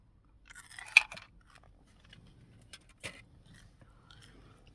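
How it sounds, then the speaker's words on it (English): Gum is chewed close by in a few soft, wet bites and crunches with quiet gaps between them. "Stand by, I have some chewing gum."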